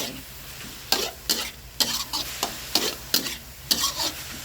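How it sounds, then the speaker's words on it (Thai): Pork and hot dog pieces are stir-fried in a pan, with a rhythmic series of sharp scraping strokes from a utensil about every half second over a low, steady sizzle close by. "หมูของเราสุกดีแล้วเราก็จะเติมด้วยฮอทดอกเลยจ้า เอาฮอทดอกลงไปผัดเลย"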